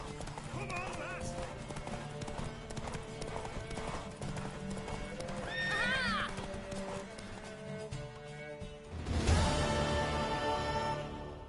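A mare in The Witcher 3 video game gallops with rapid, steady clip-clop hoofbeats, a whinny rising midway and a louder burst of sound near the end, with in-game voices in the background.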